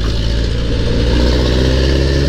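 A dump truck engine drones loud and close on a mountain road near Pililla, Rizal, a steady low rumble holding constant throughout with no break and no talk.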